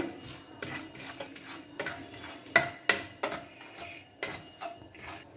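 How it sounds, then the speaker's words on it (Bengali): Whole garam masala spices frying in a pan for paneer butter masala, with a soft sizzle under repeated scraping and stirring clinks of a utensil against the pan, close and fairly quiet. "আর গোটা গরম মশলা। এটাকে 30 থেকে 40 সেকেন্ড মতো একটু ভেজে নেব।"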